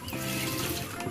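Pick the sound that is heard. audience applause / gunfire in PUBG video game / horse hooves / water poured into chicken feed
water poured into chicken feed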